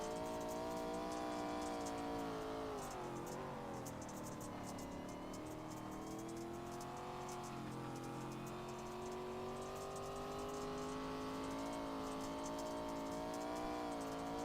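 From on board an ARCA race car at Knoxville, the engine drones steadily and close with a harmonic whine that rises and falls slightly as the throttle shifts, continuous and without a break.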